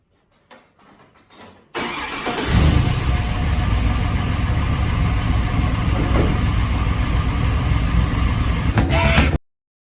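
A big 408ci (6.6-liter) LS2-based stroker V8 in a Trailblazer SS, with headers and electric cut-outs, cranks and roars to life, then settles into a loud, rumbling idle that holds steady before cutting off abruptly.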